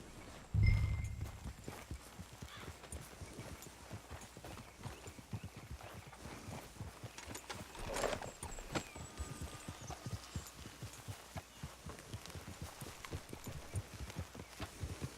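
Horse hooves in the video game Red Dead Redemption 2, a rapid, steady galloping clip-clop that runs throughout, moderately quiet, with a low thump near the start and a brief swell partway through.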